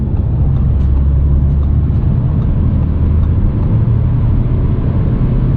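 A 2020 Audi A4 S Line in sport mode at full throttle on a highway at night, heard from inside as a steady, loud engine drone and road roar with no letup throughout.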